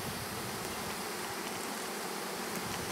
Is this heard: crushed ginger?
no